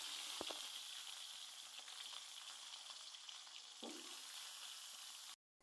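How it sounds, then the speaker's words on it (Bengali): Boiled eggs and potatoes, lightly salted, fry together in hot oil, giving a steady close sizzle with a couple of sharper crackles and stirring clicks before it cuts off. "এখন ডিম আর আলু একসাথে ভেজে নেব"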